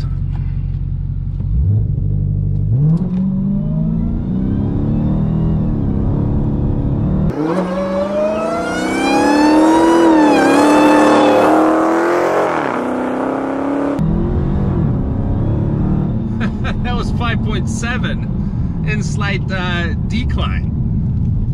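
A Dodge Challenger Hellcat's engine revs and accelerates hard up a slight incline, its pitch climbing steadily as the loud roar builds, with wind and road noise around it.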